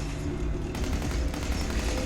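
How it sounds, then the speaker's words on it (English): Rapid automatic assault rifle fire in the video game Fallout 4, a dense burst of repeated shots over heavy low rumble, loud and close, continuing throughout without talk. "Automatic assault rifle. Sure, why not? I could use some rate of fire."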